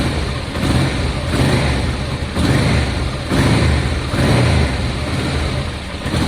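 A Honda Deauville motorcycle engine idles low after a carburettor clean, with a close, rough, steady rumble that swells and dips in slow pulses, no speech.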